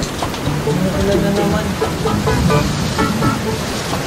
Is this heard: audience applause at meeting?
no